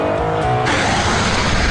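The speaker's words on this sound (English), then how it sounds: "I wasn't shy in dropping it down the box and just playing with the revs at the top end" A Ford Boss 302 engine revs hard at the top end, a loud, strained mechanical roar that shifts in pitch partway through and sounds close and continuous.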